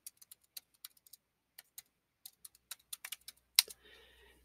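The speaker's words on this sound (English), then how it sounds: "type in the computer name" Short bursts of keystrokes on a computer keyboard as a server's computer name is entered, a dozen or so quiet, irregularly spaced clicks followed by one sharper tap and a faint hum.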